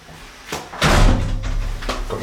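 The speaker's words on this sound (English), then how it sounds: "Let's close the door." A hotel room door at a resort in Dhulikhel, Nepal swings shut with a loud close thud followed by a brief rattle and latch click, heard near and alone.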